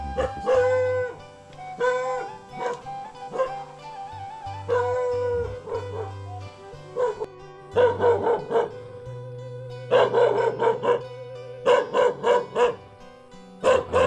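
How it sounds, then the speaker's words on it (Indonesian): A dog barks and howls repeatedly in bursts in a rural village in Garut, Indonesia, over a background of steady music, with a drawn-out whining howl in the middle. "Anjing guys, gonggong guys."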